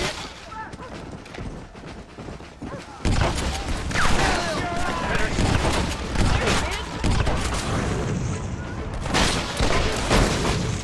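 Gunfire from the Red Dead Redemption video game, heard as dense, loud bursts of shots and booms that crowd the mix after a quieter start, with someone talking over it.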